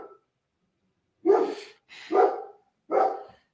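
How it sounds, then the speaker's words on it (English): A dog barks three times just outside a door, loud, close and alone, with short gaps between the barks. "if you heard my dog barking"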